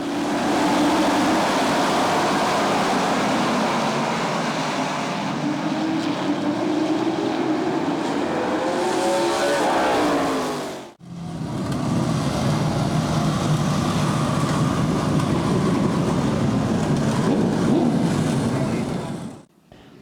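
Race cars circling the Midvale dirt track roar past in loud, continuous engine noise with rising and falling pitch, cut by a brief drop midway before the racket resumes.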